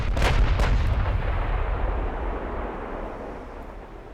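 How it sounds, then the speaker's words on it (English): Heavy battleship cannons fire in the naval video game Ultimate Admiral: Dreadnoughts, with two loud booming blasts close together followed by a long rumbling roar that slowly fades, with no voices. "She needs a wider berth to fire every single one of those cannons."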